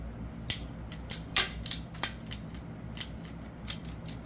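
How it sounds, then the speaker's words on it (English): A ratcheting PVC pipe cutter trims a quarter inch off a plastic pipe, making scattered sharp clicks and snaps at an uneven pace against a quiet room. "this is kind of like a PVC pipe cutter, and we have to trim another 1/4 inch off. So we just ratchet down."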